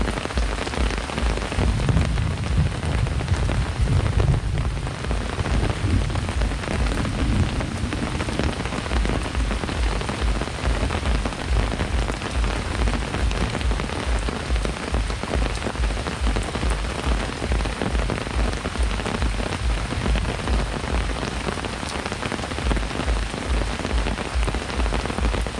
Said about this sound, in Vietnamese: mưa quá trời mưa luôn